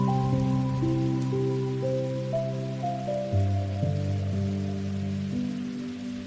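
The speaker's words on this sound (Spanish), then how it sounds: "Disfrutando de esa lluvia tan esperada." Steady rain falls as a soft, continuous hiss beneath gentle, sustained musical tones that shift slowly from chord to chord.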